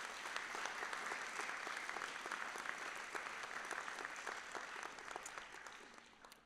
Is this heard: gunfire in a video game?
no